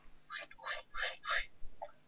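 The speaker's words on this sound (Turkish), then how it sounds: "Tavuklar niye böyle ses çıkarıyor?" Four quick bursts of squawking, clucking Minecraft chicken calls in a row, then a short faint chirp, with a little low background noise.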